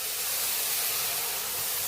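Cumin and coriander powder in a hot pan with a splash of water added, giving a steady, close broadband sizzling hiss that stays even throughout with no voices.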